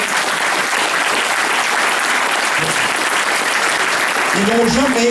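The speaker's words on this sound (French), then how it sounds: "Il faut les applaudir" Steady applause from a conference audience, continuous clapping throughout, with a voice briefly audible near the end.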